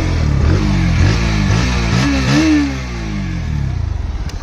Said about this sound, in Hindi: तो अभी जो है इसकी एग्जॉस्ट नोट आपको सुना देता हूँ।